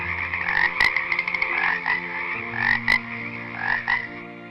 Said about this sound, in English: So God sent the second plague, a plague of frogs.